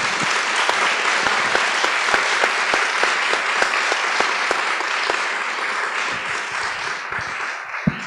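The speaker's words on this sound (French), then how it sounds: "j'aimerais que l'on applaudisse et qu'on leur remercie notre panel" An audience at a business luncheon panel on luxury in Montreal applauds steadily, a dense wash of many hands clapping at even strength with no talk over it, tapering slightly toward the end.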